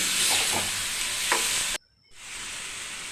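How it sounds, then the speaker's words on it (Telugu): Tomato chutney stirring and sizzling in a pan, a steady close frying hiss with a few spoon scrapes, then a sudden drop to near silence before the sizzle returns more softly. "మధ్య మధ్యలో కలుపుకొచ్చి బాగా ఫ్రై చేసుకోవాలి."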